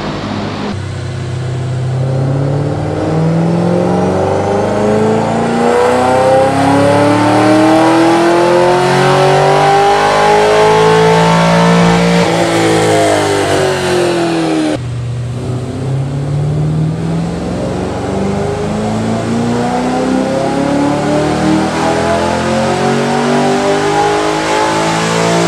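A Chevrolet Camaro ZL1 engine revs steadily upward toward 6,900 rpm, drops off, then climbs again in a second loud, sustained pull, its rising whine and roar heard close and alone.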